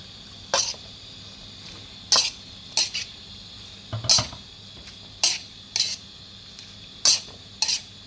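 Chinese kale being stirred through minced pork in a wok for a basil-style stir-fry, with a light sizzle beneath and a run of sharp, evenly spaced metallic scrapes and clanks of the spatula against the pan, no talking.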